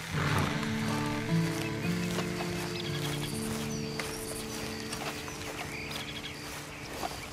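A horse whinnies and snorts in Red Dead Redemption 2 over a steady bed of music-like tones, with faint hoof movement in the background; no one speaks.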